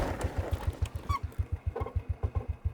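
A motorcycle engine idling and puttering on a mountain road between Alilem, Ilocos Sur and Kibungan, Benguet, a steady, close, low rhythmic thumping throughout with a brief higher squeak partway through.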